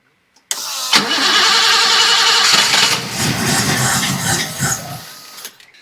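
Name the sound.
1980 BMW 528i E12 engine cranking and starting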